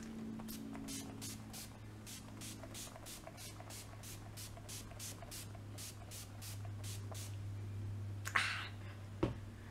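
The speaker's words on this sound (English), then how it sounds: "I'm just going to go ahead and set my face now with the Urban Decay setting spray." Urban Decay setting spray misted onto a face in a rapid run of about twenty short, even spritzes at close range, followed by a couple of soft rustles.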